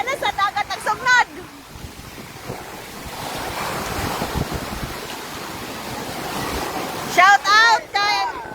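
Surf breaks on the shore near houses at Hilongos, Leyte, a broad rushing wash of water with wind buffeting the microphone, while excited voices shout at the start and again near the end.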